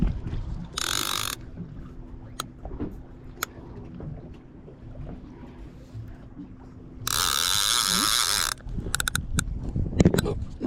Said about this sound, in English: turn the ratchet off